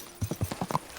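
Horse hooves clip-clopping in the medieval game Kingdom Come Deliverance 2, six or so quick, distinct hoof strikes in an even trotting rhythm, close and clear with no talk over them.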